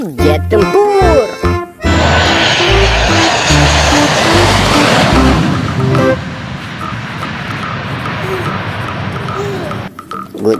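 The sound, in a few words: toy fighter jet aircraft engine sound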